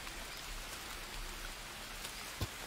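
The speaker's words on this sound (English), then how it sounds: "Oh, it's raining." Steady rain in the jungle survival game Green Hell, a soft even hiss of falling drops with one brief thump near the end and no voices.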